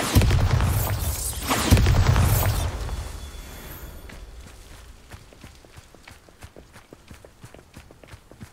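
Bombarda spell explosion in the Hogwarts Legacy video game, a loud rumbling blast at the start that fades out over a few seconds into steady rhythmic footsteps.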